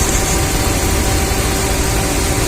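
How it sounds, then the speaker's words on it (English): A 2009 Ram with the 5.7 engine idles loudly up close, a steady low rumble mixed with a broadband hiss and ticking from leaking exhaust manifolds, no voices over it. "So it's nice and quiet now, except for the exhaust manifold leaks"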